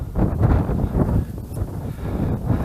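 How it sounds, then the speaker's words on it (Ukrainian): Strong wind buffets the microphone on a winter pond shore during spinning fishing, a loud continuous low roar with gusty swells throughout. "сьогодні вітер ну, набагато сильніший, як минулого разу"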